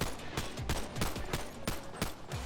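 Rapid automatic gunfire from a modded gun in Bonelab, a fast, even burst of sharp shots firing continuously and fairly loud throughout.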